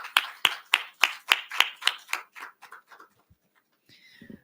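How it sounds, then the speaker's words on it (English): At a Women in Engineering conference, a small group claps in a clear rhythmic burst of about a dozen sharp claps that thin out and stop, followed by a faint rustle. "A big round of applause for Anna George."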